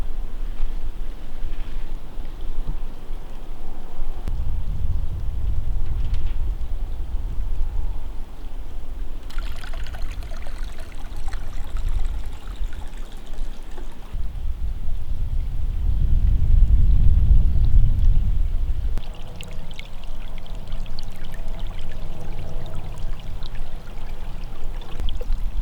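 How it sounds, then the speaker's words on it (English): A small brook flows steadily beside a woodland cabin, a continuous low rushing and trickling wash that swells midway and carries on alone without talk. "My little brook is just flowing nicely."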